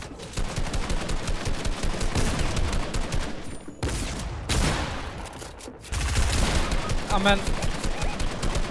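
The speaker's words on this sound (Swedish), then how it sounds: "Han skjuter mig." Rapid bursts of gunfire from a Fortnite match, loud and sustained across most of the stretch with a brief lull, while a player's voice is heard over the shots.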